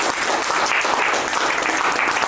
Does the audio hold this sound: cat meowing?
no